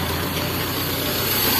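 A Colt SS car engine runs at high RPM, a close, loud, steady drone with a dense low rumble that holds without pause for the brief moment.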